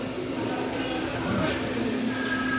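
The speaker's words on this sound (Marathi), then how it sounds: "तर मित्रांनो ट्रेनमध्ये चढलो आहे" Inside a Janshatabdi Express carriage before departure, with a steady low rumble and hum of the coach, a continuous hiss and a brief clatter near the middle.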